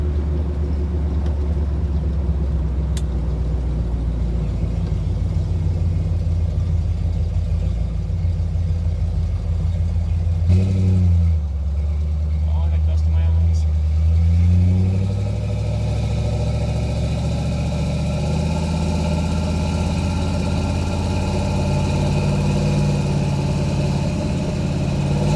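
An old junkyard Ford Maverick drives under its own power for the first time in 30 years, its engine holding a steady low rumble throughout, close and loud, with a brief rise in revs midway before settling again.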